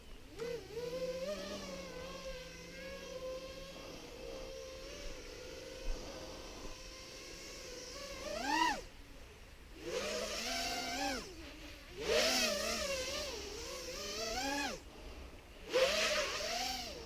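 A small 170mm tricopter drone flies with whining motors that rise and fall in pitch, surging repeatedly as it maneuvers, fairly close and without speech.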